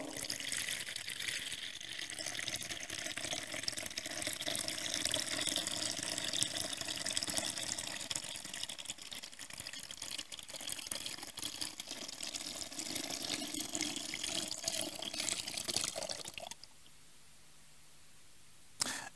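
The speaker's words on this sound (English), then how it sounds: "took a jug of water" Water pours from a jug into a bowl during a church service, a steady, close splashing stream lasting about sixteen seconds before it stops abruptly and the room falls quiet.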